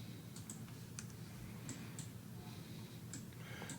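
Faint, scattered clicks of computer keyboard keys being pressed while working in 3DS Max, a handful of light taps over a quiet room hum.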